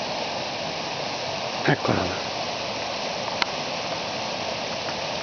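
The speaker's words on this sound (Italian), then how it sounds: "scorre l'acqua" Steady rushing of a stream flowing near a forest path below a roadside, on a porcini-hunting outing, a continuous broad wash heard close by, with a brief spoken remark and a couple of short rustles early on.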